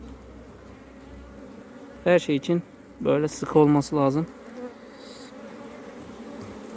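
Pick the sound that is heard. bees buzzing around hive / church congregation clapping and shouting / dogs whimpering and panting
bees buzzing around hive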